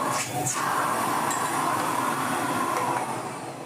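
A 1970s Electrolux Z302 vacuum cleaner, restored and running with its hose attached, gives a steady loud whooshing drone with a faint high whine that eases off slightly at the end.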